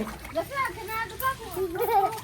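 Water runs from a pipe and splashes into a container, with intermittent splattering close by while a child and an adult talk over it.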